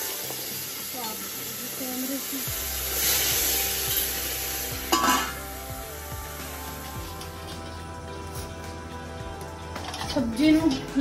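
Cumin seeds crackle and sizzle in hot oil, with bursts of hissing and steady frying noise; a voice talks intermittently nearby.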